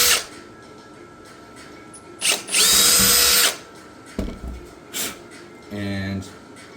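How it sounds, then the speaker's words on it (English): A power drill with a 3/32 bit whirs in short bursts, one longer high-pitched run then a few brief revs, close by, with quieter handling noise between. "what I'm using here is a 3/32, I believe, drill bit to make the holes"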